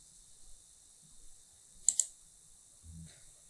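Two quick, close mouse clicks in a quiet room, pressing a dialog box launcher in Microsoft Word 2013 on Windows 10, followed by a faint soft bump.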